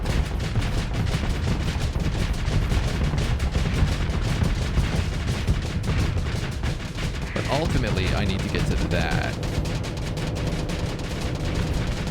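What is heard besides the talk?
auto cannon fire in video game Starsector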